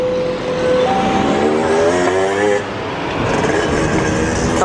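A Kaligung passenger train running on the rails, heard from on board or close by as a loud continuous rumble with rhythmic wheel clatter and a few tonal squeals and whines rising over it.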